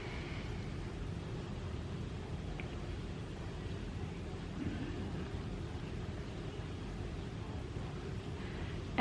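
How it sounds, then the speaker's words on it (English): A home dishwasher runs in the background, a faint, steady low rumbling wash of noise with no breaks and no speech. "If you guys hear noise in the background, it's my dishwasher."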